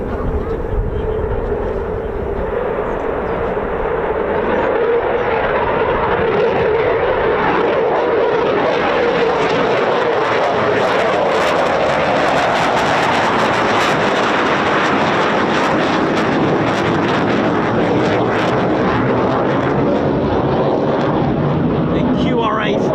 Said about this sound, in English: The QRA style takeoff.